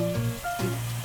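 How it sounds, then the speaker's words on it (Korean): Seaweed stir-fries in oil in a pan with a steady close sizzle. A tonal hum runs under it, and no one speaks. "가만히 있을 수 없는 친구가 미역을 볶는데요."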